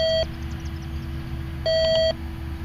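A White's V3i metal detector in a local park gives two sustained electronic tones on a quarter signal, a short one at the start and a longer one moments later, loud and close over a low steady background hum.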